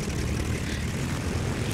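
Steady droning propeller aircraft engine in the War Thunder game, a continuous loud broadband roar holding level throughout without a clear spin-up.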